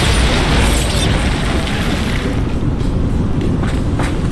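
A Bombarda spell blast in Hogwarts Legacy, a loud booming burst with a rumbling tail that fades over a few seconds, with short crackling debris hits toward the end.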